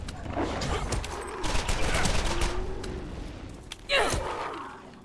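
Video game gunfire from Borderlands cracks in quick bursts of shots, with a sharper blast near the end. Voices and breathy sounds from players are heard between the shots.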